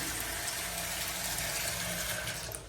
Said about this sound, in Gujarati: રસોડામાં આવી ગયું આપણે પાણી.